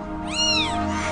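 A kitten with a badly twisted leg gives one clear, close meow, rising and falling in pitch, heard alone.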